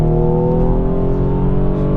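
A four-wheel-drive BMW 428i with 245 hp pulling under acceleration from about 80 km/h, a steady loud engine drone with rising pitch heard from inside the cabin.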